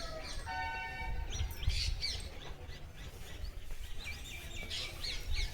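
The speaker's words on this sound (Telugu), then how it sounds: "పక్షుల సౌండ్లు ఎలా ఉన్నాయి చూడండి." Birds chirp and call outdoors at dawn around 4 a.m., with repeated trills and scattered tweets of several birds at moderate distance over a low rumbling background.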